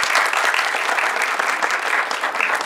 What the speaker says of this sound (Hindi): प्लीज़ भरपूर तालियां।